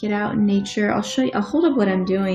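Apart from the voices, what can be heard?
No everyday noises stand out.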